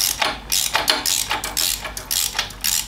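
Ratchet wrench loosening the front bolt on the shift linkage of a Harley-Davidson Road Glide Special motorcycle, with a run of quick metallic clicking bursts repeating close by, no talk.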